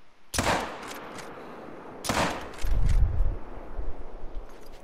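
Lever action rifle fired in a deer hunting video game on a coastal map: two sharp, loud shots about two seconds apart, each ringing out with an echoing tail, followed by low rumbling.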